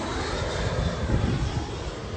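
A fixed-wing airplane passes overhead in San Diego's Balboa Park, a loud, steady broadband engine roar that swells slightly in the middle and fills the whole stretch with no one talking.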